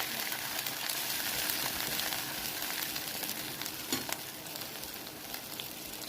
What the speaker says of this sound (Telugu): గరం మసాలా, ధనియాలు, జీలకర్ర పౌడరు వేసుకున్నాను. వేసుకొని కలుపుకోవాలి.